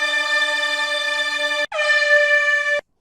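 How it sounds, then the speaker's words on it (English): An air horn blasts twice, a long loud blare, a brief gap, then a second shorter, lower-pitched blast that cuts off abruptly. "I've got an air horn."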